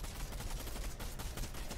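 Rapid gunfire in the Fortnite video game, a dense stream of sharp, evenly repeating shots that runs steadily and fairly quietly through the whole stretch.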